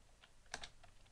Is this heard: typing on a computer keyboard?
yes